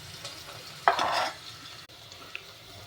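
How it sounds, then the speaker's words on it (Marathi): Onion and curry leaves sauté in hot oil in a kadhai, a short burst of sizzling with a spoon scrape lasting under a second, then quiet low kitchen background. "तर हे बघा, कढीपत्ता टाकून चांगलं कांदा टाकून परतून घेते आता."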